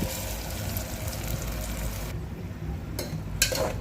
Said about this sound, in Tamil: எண்ணெயில் ரோஸ்ட் ஆகுற மாதிரி நல்லா கிண்டி விடுங்க